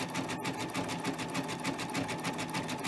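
Sewing machine running steadily as it stitches down the middle of fabric for Easter tree decorations, a close, continuous fast mechanical whir with rapid needle ticking throughout.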